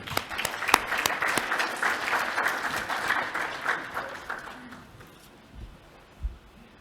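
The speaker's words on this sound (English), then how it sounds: "Please give them a big round of applause" A conference audience applauds panelists coming onto the stage, dense clapping that builds briefly and then fades away, leaving a few faint thumps near the end.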